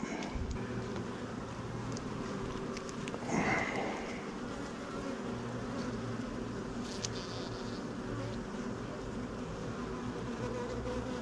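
Honeybees and large drones buzzing steadily in an open hive during a beginner beekeeper's varroa mite treatment, a dense close drone that holds throughout with a brief louder swell as bees pass near.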